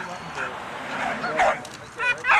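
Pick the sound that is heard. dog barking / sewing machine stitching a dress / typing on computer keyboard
dog barking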